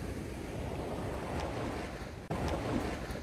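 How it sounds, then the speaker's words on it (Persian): Ocean waves wash steadily onto the shore in Miami, a continuous broadband surf roar mixed with heavy wind buffeting the microphone, loud and close with a brief dropout partway through. "اقیانوس بی‌حدود"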